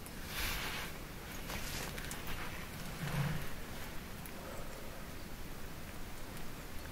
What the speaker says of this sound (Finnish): Pidetään sadetta.